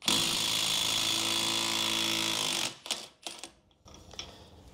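A Milwaukee impact wrench spins off a 32 mm axle nut on a cheap Honda Civic, a loud, steady rattling whine for nearly three seconds. It then stops abruptly, leaving a few faint clinks and handling noises.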